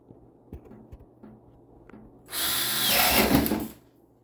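A few faint clicks and taps, then an electric drill whirs loudly for about two seconds, boring through material before spinning down.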